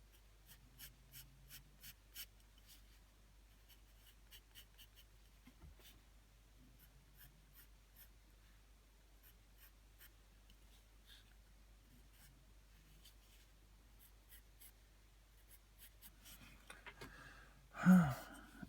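Pencil strokes drawing detailed lines of an anime girl's face, faint, close scratches in short bursts with quiet pauses between, ending in a brief louder rustle.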